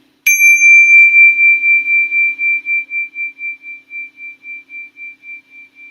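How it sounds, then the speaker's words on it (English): A meditation bell struck once, a clear bright ring that rises sharply and then decays slowly with a gentle pulsing shimmer, heard alone in a quiet space. "when you detect the vibration of my bell, allow your eyelids to float open"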